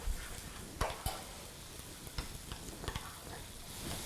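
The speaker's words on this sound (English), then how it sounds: "I'm just gonna stir that up" A spoon stirs a creamy, mascarpone-like mixture seasoned with salt and pepper, giving faint, soft scraping sounds with a few sharp clicks against the bowl, close and quiet.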